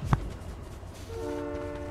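A train in the video game Fortnite sounds a sustained horn that rises in near the end, steady and fairly loud over a low rumble, after a brief sharp knock.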